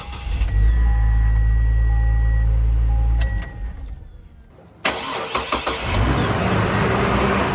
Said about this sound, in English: This enables more power from the jump pack to be supplied to the vehicle, allowing it to turn over